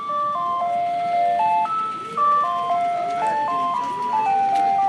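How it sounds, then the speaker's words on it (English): An old school ice cream truck in Stockton, California plays its chiming jingle, a loud, steady melody of bright, stepped electronic notes that repeats continuously with no talking. "Old school ice cream truck right here."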